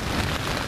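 Heavy rain falls steadily at a campsite during a thunderstorm, a dense unbroken hiss of drops pattering on surfaces, brief and fairly loud with no voices.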